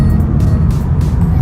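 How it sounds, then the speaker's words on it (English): Two cars roll out together, a loud, close, steady engine rumble with throaty low-end growl and slight revving pulses, no talking. "I just love it when we roll out with both these cars."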